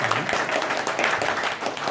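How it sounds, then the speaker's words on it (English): An audience at a school function applauds a song, a brief, even wash of clapping throughout, with a faint hint of voices beneath. "Please give one round of applause for that beautiful"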